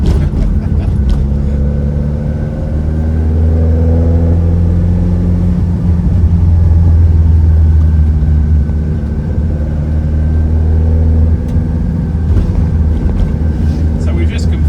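Ford Escort Mk1 RS1600 engine pulling through the gears on a Townsville cruise, heard from inside as a loud, continuous droning engine note with rising and falling pitch as it changes gear, plus some wind buffeting.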